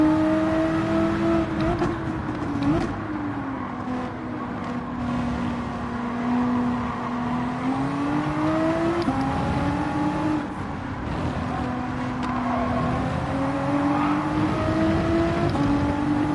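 BMW race car engines drone steadily through a Gran Turismo 7 daily race at Atlanta, pitch rising and falling with revs as the cars accelerate and brake through corners, loud and continuous with no talking.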